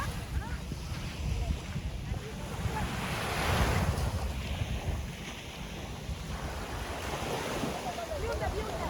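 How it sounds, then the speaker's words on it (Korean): Heavy rain pours down outdoors as a steady, broad hiss with wind rumbling over the microphone, and the wash swells briefly in the middle while people talk faintly in the background. "비가 시원하게 오네 지금"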